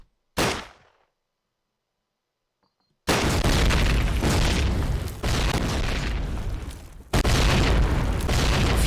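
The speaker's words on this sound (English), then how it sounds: "A few late nades." Grenade explosions in a Call of Duty match: one sharp blast, a few seconds of silence, then heavy booming bursts that roar loud and continuous, broken by brief dips.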